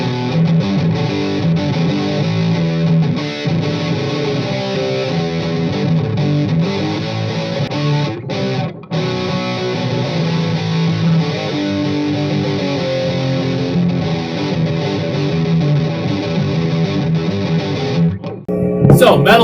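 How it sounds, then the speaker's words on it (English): A 2014 G&L Fallout electric guitar plays through a Boss Metal Zone distortion pedal into a Marshall amp, giving a thick, saturated, sustained chordal tone that runs loud and continuous, with a brief gap near the middle. "So, Metal Zone, Marshall, G&L Fallout, worthy combo."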